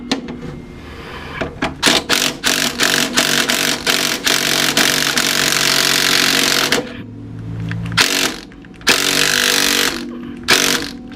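Loud cordless impact wrench whirring in repeated bursts on a 1997 Honda Civic rear suspension bolt, revving up and cutting off several times with short pauses as the battery dies, close to the microphone.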